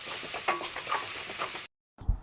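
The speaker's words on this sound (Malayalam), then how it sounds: "ഒന്നുകൂടി നന്നായിട്ട് ഇളക്കുക." Crab curry gravy with tomato and a splash of water stirred in a pan, scraping and bubbling sizzle in short strokes, close, cut off abruptly by a brief silence and a final thump.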